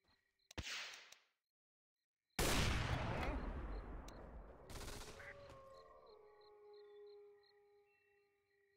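Gunfire in the Dota 2 arcade game Heros Defensionis: after a brief faint blip and near silence, a sharp loud blast erupts and rings out. A second shot follows a couple of seconds later, trailing into a long metallic decay.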